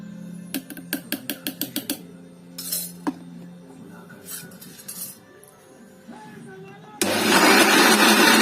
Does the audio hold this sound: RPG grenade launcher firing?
no